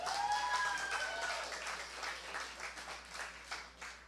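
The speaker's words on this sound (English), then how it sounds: "Give yourself a round of applause." Crowd clapping at a public political meeting of the Progressive Empowerment Party in Siparia, a steady, fairly distant wash of applause that carries on throughout, with a faint whistle-like tone near the start.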